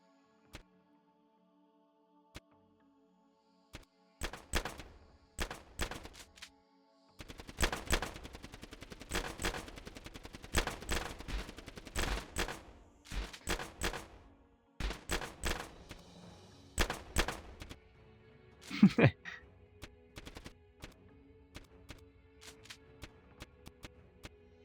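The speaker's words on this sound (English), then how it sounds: "I can hear shooting." Gunfire in VRChat comes as bursts of rapid automatic shots mixed with scattered single cracks, loud and close, with pauses between volleys and a stretch of sustained firing near the middle.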